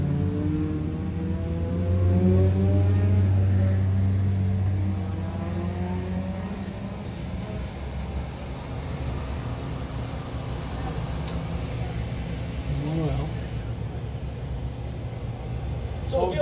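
Race cars run at Can-Am Speedway, engines rising and falling as they pass at moderate distance, a whining drone under an announcer's commentary.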